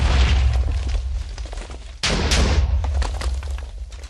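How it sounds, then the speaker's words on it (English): Video game TNT explosions on a tree farm, a dense run of booming blasts and crackling bursts with one sharp, loud detonation midway, with no talk over them. "and our explosions going."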